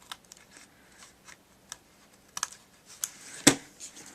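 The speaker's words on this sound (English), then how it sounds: "take the scissors and trim off the overhang" Scissors snip off the overhang of a handmade Christmas card, giving several quiet, sharp cuts and clicks scattered irregularly, with a louder snap near the end and no talking.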